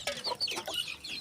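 Several chickens cluck in quick, overlapping bursts, close and fairly clear. They are farm hens kept through the winter.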